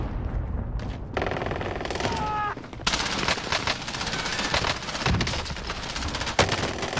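Rapid automatic gunfire in a first-person shooter video game, long dense bursts of shots with short gaps, loud and close, with a brief game sound effect partway through.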